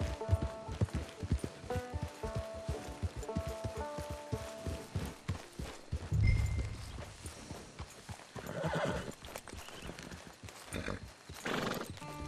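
Horse hooves clip-clop steadily in Red Dead Redemption 2, a rapid rhythmic trot close by, joined by an occasional whinny and a brief heavy thump mid-way, with other game ambience underneath.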